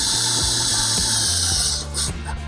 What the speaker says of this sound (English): we're going to secure these with our 3/4" Tek screws